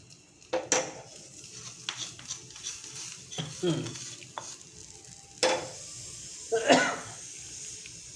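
A tempering is poured into a pot of pea curry and stirred in, bringing scattered sizzles, scrapes and clinks of a spoon against the pot, irregular and close, with quiet gaps between.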